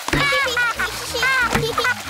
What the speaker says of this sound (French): mais n'éclabousse pas autant.